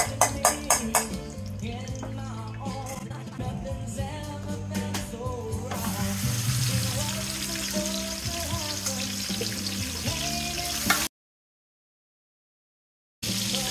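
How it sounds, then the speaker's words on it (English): Pork necks frying on a Big Green Egg grill give a steady crackling sizzle with clattering and scraping sounds, then the sound cuts briefly to silence. "now we're gonna fry our pork necks"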